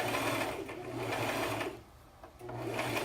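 Domestic sewing machine stitching fabric in a steady rapid whir, edge-stitching along a seam finish with bias tape, running continuously, pausing briefly, then resuming close and clear.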